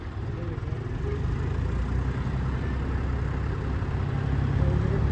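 A tractor engine runs steadily with a potato machine hitched on, a constant low diesel drone that is close, loud and unbroken, growing slightly stronger toward the end.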